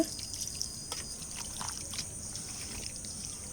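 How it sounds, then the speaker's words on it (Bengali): A small amount of water is poured onto marinated beef, giving a brief, quiet trickle with light splashing drips. "আমি এখন পরিমাণ মতো একটু পানি দিয়ে দিব"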